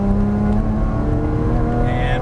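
Porsche Cayman engine accelerating out of a corner on a track, a strong, close, steady drone whose pitch rises gradually, with an instructor talking over it.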